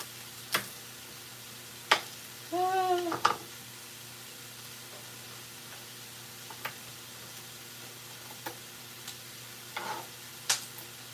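A lentil dish for Syrian mujadara sizzles faintly in a pan over high heat, heard as sparse, soft crackles and brief stirring scrapes against a quiet background.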